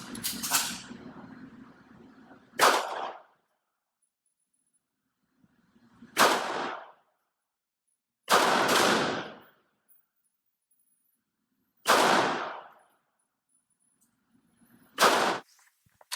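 Taurus GX4 pistol firing in live fire, five sharp loud reports spaced a few seconds apart with short decays and silence between, a faint rumble before the first.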